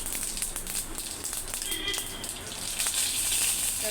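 Mustard seeds and cumin sizzle in hot oil in a pan as tempering for dal, giving a steady, fairly quiet frying hiss with scattered small crackles and pops throughout.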